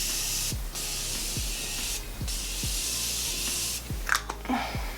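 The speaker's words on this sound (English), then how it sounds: "I'm gonna set my face with the Morphe Continuous Setting Mist" Morphe Continuous Setting Mist sprayed onto a face, several short hissing bursts of fine mist close to the mic, separated by pauses, with soft handling noise toward the end.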